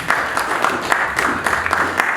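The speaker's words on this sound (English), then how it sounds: "A round of applause." Audience applause fills a room at a business talk event, with dense, steady clapping from a crowd lasting throughout and no clear voices on top.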